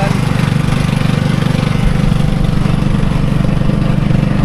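Petrol lawn mower cutting grass pitches, a steady droning engine hum that holds at an even level throughout, close by and loud with no pauses.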